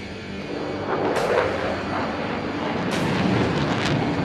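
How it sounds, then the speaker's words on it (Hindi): A Solo Turk jet performs a loop over the Pakistan Day parade, a broad rumbling roar that swells and recedes with sharper bursts, heard at a distance across an open crowd setting. "सोलो तुर्क इस वक्त आपके सामने लूप का मुजाहिरा पेश कर रहा है"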